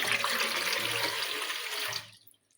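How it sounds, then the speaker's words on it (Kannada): Water pours into an idli cooker in a steady, full splashing stream for about two seconds, then cuts off and fades to quiet. "ಇದಕ್ಕೆ ಸ್ವಲ್ಪ ನೀರು ಹಾಕಿ ನೀರು ಕುದಿಯಾಕತ್ತೀನಿ"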